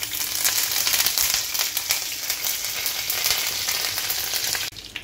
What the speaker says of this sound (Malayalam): കുറച്ച് വേപ്പിൽ ഇട്ട് കൊടുക്കണ്ട്.